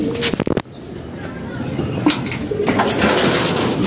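Baby pigeons coo softly inside a dim loft, low bubbling calls rising under a steady background, after a brief burst of rustling or flapping at the start.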